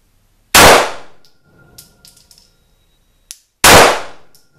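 Two loud, close gunshots from a Glock 17C pistol firing Federal ammunition at an outdoor range, spaced about three seconds apart, with faint clinks and shuffling between them.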